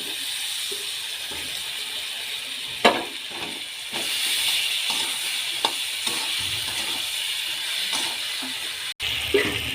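Mutton sautéing in a pan with ground turmeric, cumin and ginger-garlic paste gives a continuous hissing sizzle with intermittent stirring scrapes and a few sharper knocks, with no talking.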